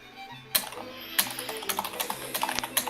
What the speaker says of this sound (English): Jim, you're slightly hunched over. You're typing pretty loud. It's coming through